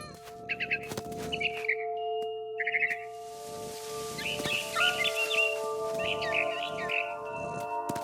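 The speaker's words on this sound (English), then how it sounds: "Then I heard chirping outside my window. It was a barn swallow going back to her nest." Barn swallow in the game What Remains of Edith Finch, giving several bursts of quick, twittering chirps over a faint steady ambient hum and soft low thuds, close and fairly quiet.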